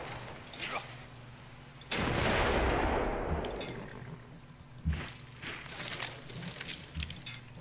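Artillery fire on units in the Civilization V video game, a loud deep boom with a rumbling tail, followed by scattered smaller blasts and impacts.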